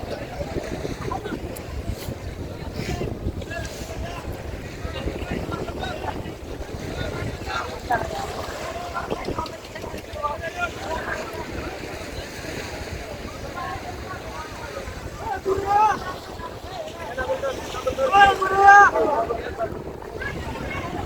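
At the Cox's Bazar fishery ghat, a seaside harbour lined with fishing trawlers, wind buffets steadily over broad surf and boat noise, with voices murmuring in the background and a louder gust toward the end.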